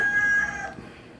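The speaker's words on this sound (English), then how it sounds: "our neighbor chickens have started crowing" A single rooster crow, its drawn-out call fading after about half a second, followed by quiet background.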